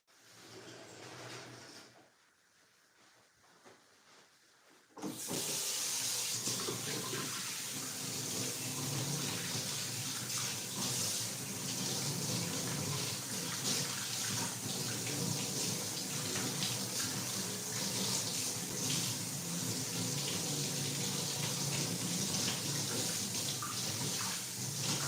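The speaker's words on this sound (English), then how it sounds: "But first I'm going to wash my hands." Tap water runs steadily and loudly as hands are washed under it, beginning after a few seconds of quiet handling and continuing without a break.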